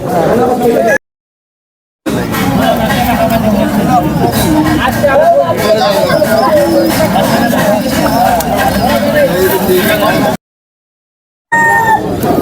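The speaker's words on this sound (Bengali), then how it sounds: "চলেন কবুতর দেখি" Pigeons at a crowded village pigeon market, cooing and fluttering amid dense crowd chatter and hubbub that stays loud throughout, with two short gaps of silence.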